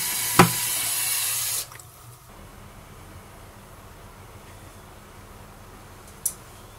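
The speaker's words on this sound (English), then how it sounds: "we've rinsed most of the grease off of these parts" Tap water runs steadily over greasy collet chuck parts in a sink, then cuts off after about a second and a half, leaving a quiet room with a couple of small knocks.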